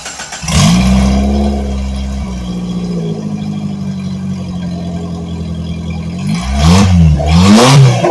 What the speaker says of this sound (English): So my little homemade muffler did quieten it down quite a bit.